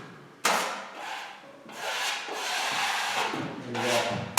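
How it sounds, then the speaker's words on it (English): A drywall taping knife wipes excess joint compound over paper tape on a butt joint, several close scraping strokes in quick succession with brief pauses between them. "And you just clean off the excess."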